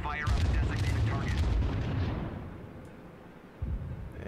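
Naval artillery firing in World of Warships, a loud booming salvo with a long rumbling decay, followed by a smaller thud near the end.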